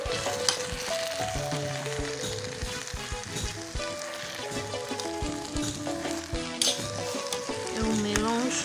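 Purslane cooks in tomato sauce in a pan, a dense continuous sizzle and bubbling with scraping stirs, close and moderately loud, with some background sound over the top.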